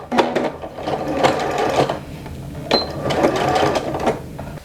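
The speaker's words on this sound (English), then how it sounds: "place it underneath the presser foot and do a back stitch" A sewing machine back stitching the start of an apron hem: a steady, close mechanical whir with a rapid needle chatter that pauses briefly midway and then resumes, with no talking.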